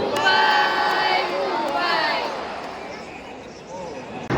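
At an IPL cricket match in a packed stadium, a dense, loud crowd chants "Mumbai Indians" in rising, sustained waves that fade slightly toward the end.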